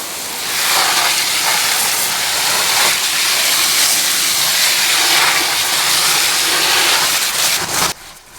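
A garden hose spraying water onto a Sta-Rite pool filter, a loud, broad continuous hissing rush that holds steady for several seconds before cutting off abruptly near the end.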